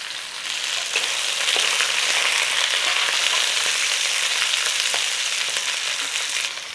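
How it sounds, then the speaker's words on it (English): Beef chunks searing in a hot pan for a cottage pie, a loud, dense, unbroken sizzle and hiss that stays close and steady from start to finish. "And we want to sear on it, so just let it settle."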